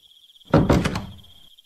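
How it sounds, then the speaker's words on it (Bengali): A house door in a cartoon horror story opens after the doorbell rings, giving one short, close wooden clunk with a quick rattle, set against a faint steady high tone. "কলিং বেল বাজাতেই একটা মেয়ে এসে দরজা খুলল।"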